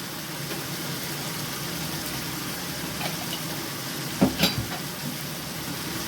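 Vegetable samosa filling is stirred in a frying pan, with a steady low sizzle throughout and a few louder scraping knocks of the spoon near the end, close by and with no talking.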